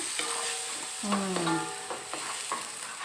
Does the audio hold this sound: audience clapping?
no